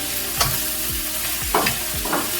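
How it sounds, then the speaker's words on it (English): Stir-fry ingredients hit a hot pan with a loud sizzle, followed by several short scraping stirs and tosses that land in an uneven rhythm, close and clear with no talking. "Then I've got the main part of the stir fry. Tip it away from you."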